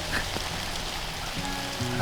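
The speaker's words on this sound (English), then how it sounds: "it's been pouring nonstop" Pouring rain falls outdoors on a wet morning, a dense, steady hiss filling the space from start to finish, with faint tonal sounds underneath.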